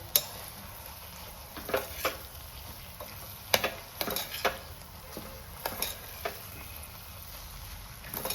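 Spices, salt, turmeric, red chili and coriander-cumin being stirred into a frying mixture in a pan, with a low steady sizzle and soft scattered scraping clinks of the spoon against the pan.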